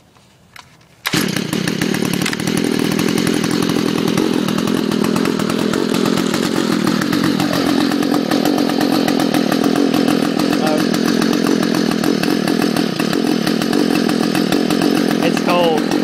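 A Stihl FS 45 string trimmer's small two-stroke engine catches after a faint pull and runs loud and steady at a buzzing idle, cold on a 55-degree day, with no pause throughout.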